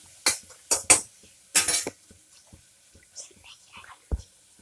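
Metal spoon scraping and clinking in a cooking pan while tomatoes and green chillies are mixed together, a few sharp irregular scrapes with faint soft sounds between.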